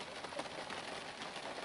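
Rain falls steadily outdoors beside a car being worked on, a faint, even hiss of drops on surfaces with no talk.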